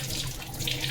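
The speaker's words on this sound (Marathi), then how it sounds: "मस्तपैकी स्वच्छ धुवून घेऊया." Tap water runs steadily into a sink over dried mackerel (sukya bangda) being rinsed of excess salt, a continuous close splashing hiss with no voices.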